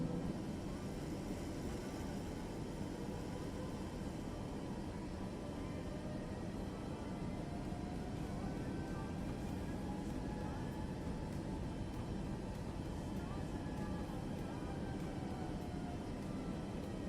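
Airplane engine drones steadily in Microsoft Flight Simulator 2024, a constant broadband roar at even loudness throughout, with faint tonal whines shifting slightly.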